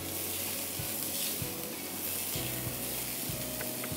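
Chopped onion fries in oil for a shakshuka red sauce, a loud steady sizzle with occasional clicks and scraping from stirring, close and continuous.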